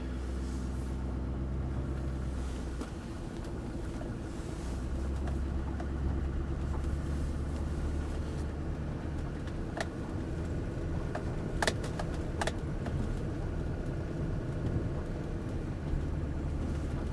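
Steady low engine rumble from a GMC 3500 Duramax pickup truck driving in four-wheel drive high, a continuous cabin drone with a few faint clicks and rattles, no talking.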